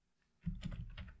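A computer keyboard clicks through a short burst of rapid keystrokes after a brief quiet start, close and fairly faint, with no voices.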